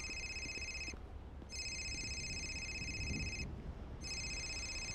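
A phone ringtone plays in repeated electronic bursts, three tonal rings broken by short gaps, fairly faint against a low background rumble with no talk over it.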